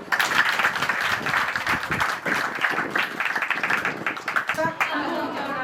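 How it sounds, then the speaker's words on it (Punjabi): A church congregation claps together in a dense, continuous burst of applause that fills the hall, and voices carry faintly underneath. "ਤਾੜੀ ਮਾਰਾਂਗੇ"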